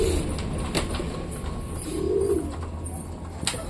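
Pigeons coo in low, throaty bursts while being fed, two soft rolling calls close by over a steady bed of outdoor noise.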